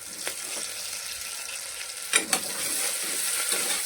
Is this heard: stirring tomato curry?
yes